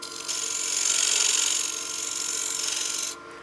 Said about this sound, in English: I can come in here with my skew to establish that foot and that tenon